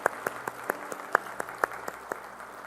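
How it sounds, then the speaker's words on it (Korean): A church congregation at a Sunday worship service claps in a slow, sparse rhythm, with distinct single claps spaced through a faint room background. "박수."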